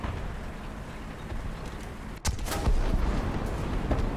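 A tank cannon shot in War Thunder booms once sharply over a low engine rumble, followed by a louder sustained rumble and debris-like crackle.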